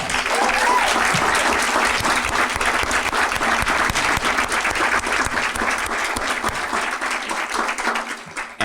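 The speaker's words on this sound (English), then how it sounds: "Let's give them a round of applause" Loud, sustained applause from an audience at an educator awards ceremony, dense clapping filling the room without a break for the whole stretch.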